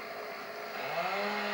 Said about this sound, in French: Je redresse la tronçonneuse.